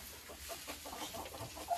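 Soft clucking of laying hens, quiet and a little distant, over a low steady background hum.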